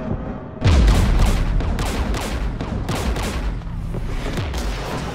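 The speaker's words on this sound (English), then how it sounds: "We're taking fire." Gunfire in Mass Effect 3 during an assault near Geth anti-aircraft guns: a sudden loud onset of rapid, repeated shots and booming impacts that continues steadily throughout.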